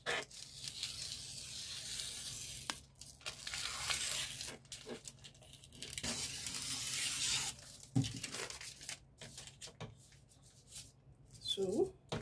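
Fabric for a straight milkmaid dress being cut, steady scissor snips and rustling cloth running close by, with a person talking over parts of it.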